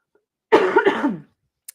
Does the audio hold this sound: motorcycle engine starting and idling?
no